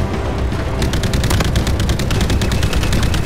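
Rapid automatic gunfire in the video game Call of Duty: Infinite Warfare, Jackal Assault VR mode, a dense rattling burst of fast repeated shots starting partway in and continuing steadily over a low rumbling battle background.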